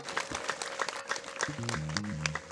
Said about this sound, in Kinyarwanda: Tuyikomera amashyi n'impundu tuyishimire,